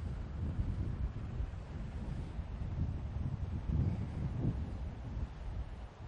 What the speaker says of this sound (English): See how we go with the wind now starting to move our board around a bit.